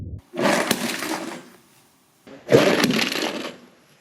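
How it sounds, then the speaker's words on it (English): A LEGO model of Ken Block's Hoonicorn car hits a barrier at 50 mph, and its front shatters. Two loud, broadband bursts of crashing and clattering plastic pieces sound up close, each lasting over a second, with a short silent gap between them. "50 miles per hour and the front shatters"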